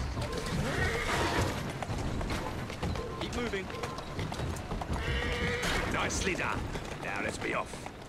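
A horse whinnies loudly in Assassin's Creed: Syndicate over the clatter of hooves and busy game noise, with a second neigh rising later.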